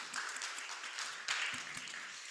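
Audience applause for a speaker at an arts event, a faint, distant and even patter of many hands clapping that holds steady throughout with no voices on top.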